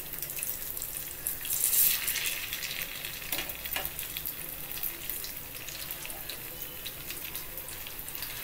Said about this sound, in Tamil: ஒரு பக்கம் வெந்தோடனே திருப்பி போட்டு இன்னொரு பக்கம் வேக விடுங்க.